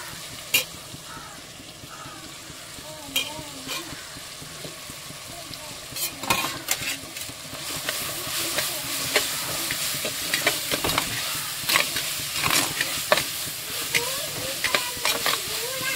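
Grated carrot goes into sautéed bell pepper in a pan and is stir-fried, a continuous close sizzle and hiss broken by frequent sharp spatula scrapes and clacks that grow busier partway through.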